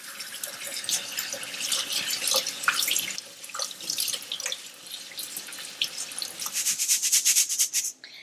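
Tap water splashes steadily over sushi rice in a sieve, a bright rushing hiss with uneven bursts and spatters that swell louder near the end before cutting off, with no talking.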